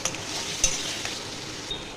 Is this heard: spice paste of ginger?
yes